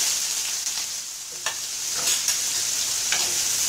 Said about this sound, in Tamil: சாம்பாருக்கு வந்து கடுகு வந்து பொரிஞ்சிட்டு இருக்கு. இதில் வந்து நம்ம பாதி வெங்காயத்தை சேர்த்துக்கோம்.